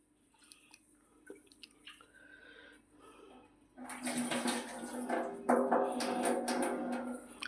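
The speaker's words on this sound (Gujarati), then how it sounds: "આ રીતે ખીચડી ધોઈ લેવાની પહેલાં એક બે પાણીથી એને ધોઈ લેવાની" Rice and lentils for khichdi are rinsed in a bowl of water, with a few faint drips and clinks at first, then louder sloshing and swishing as hands stir the grains.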